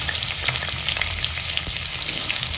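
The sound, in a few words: dry-roasting spices for soybean curry masala in pan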